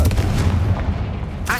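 A Confringo spell blast in Hogwarts Legacy lands as a loud, booming burst with a rolling low-end rumble that decays over about a second, followed by a short bright tail.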